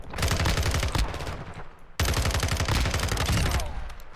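An FSS Hurricane submachine gun fires in a video game in two long, rapid automatic bursts, loud and close, each a dense rattle of shots with a brief gap between them.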